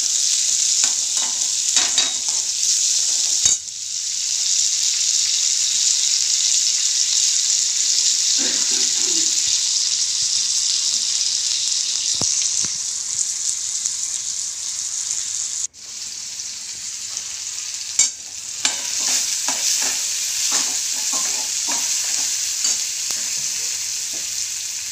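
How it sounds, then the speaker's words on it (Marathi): Tomatoes sautéing in a pan: a steady, loud sizzle runs throughout, broken by repeated scraping stirs and a short pause midway, with no talking. "टोमॅटो टाकत आहे, चांगलं परतून घ्यायचं।"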